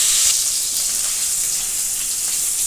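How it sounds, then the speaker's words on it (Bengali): Potatoes sizzle steadily in hot oil in a pan, a dense, constant crackling hiss at close range, loud and unbroken, with no voices. "আলুটা খুব সুন্দর করে লোয়াশে লাল লাল করে ভাজতে হবে"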